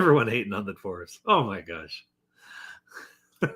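A short, breathy sneeze-like burst with no voice, following a stretch of excited talking and a surprised exclamation, then a brief voice at the end.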